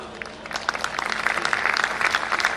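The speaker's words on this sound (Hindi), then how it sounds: "तालियां और बजाइएगा, 1 मिनट रुक जाइए।" An audience claps through a patriotic speech, with dense, sustained applause that builds slightly and holds at a steady, loud level.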